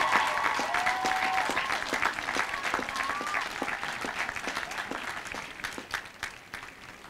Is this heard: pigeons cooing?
no